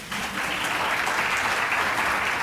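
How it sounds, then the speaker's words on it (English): A conference audience claps steadily, a dense, even wash of applause that holds at the same level throughout. "give her a round of applause"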